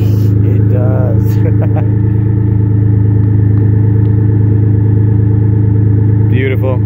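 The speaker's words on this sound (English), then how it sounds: "Sounds like it's got way bigger turbos than it does." A turbocharged 1997 Mitsubishi VR4 engine runs loud and close with a deep, steady drone, while short bursts of voices break in near the beginning and the end.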